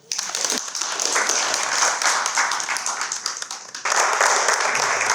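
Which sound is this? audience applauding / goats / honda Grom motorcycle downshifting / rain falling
audience applauding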